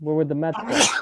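A single sharp sneeze bursts out right after a voice during live chat about a college football national championship game, brief and loud against the talk.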